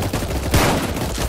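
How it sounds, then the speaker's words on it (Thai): Loud, dense gunfire in the Roblox game Tower Defense Simulator, rapid overlapping shots and bursts filling the whole moment with a heavier blast midway, close and continuous. "เสียงปืนดังสนั่นมากตอนนี้"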